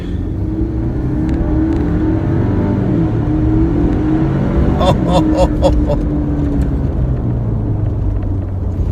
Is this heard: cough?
no